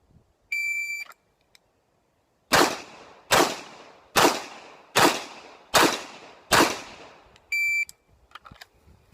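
Six sharp pistol shots ring out in a fast, evenly spaced string during single stack practice, each loud crack decaying quickly, framed by electronic shot-timer beeps before and after.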